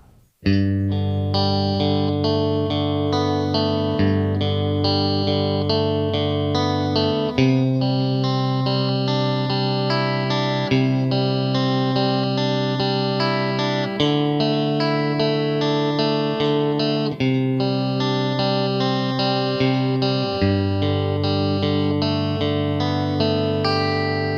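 Rock rhythm guitar plays distorted, effects-laden chords that ring into each other, changing every few seconds in a steady, sustained loud strum.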